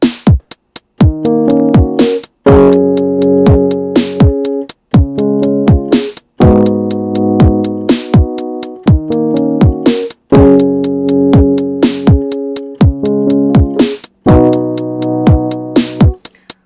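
Piano played with both hands: rhythmic chords under a lower bass line, phrases repeating in short bursts with brief pauses, loud and close.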